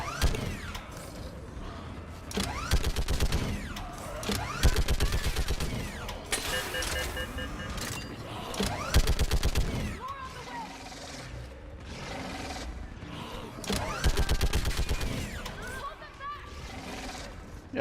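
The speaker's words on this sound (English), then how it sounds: "I'll happily take the mounted gun." Mounted gun firing in the video game Mass Effect 3, rapid bursts of automatic fire with metallic mechanical clatter, repeating in stretches amid game effects, with a voice talking at times.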